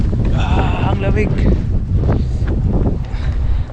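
Cold wind buffets the microphone in Wellington, a loud, gusty roar that rises and falls through the moment, with a person's voice heard briefly beneath it.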